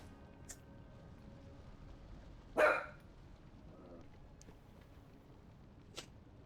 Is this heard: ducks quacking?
no